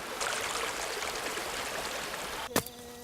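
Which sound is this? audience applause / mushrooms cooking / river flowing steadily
river flowing steadily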